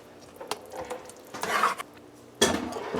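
Spoon or utensil clinks and scrapes against a pot on a low stove as sirnie ingredients are stirred, with sharp metallic knocks and a scraping burst midway, then a louder clatter near the end, without speech.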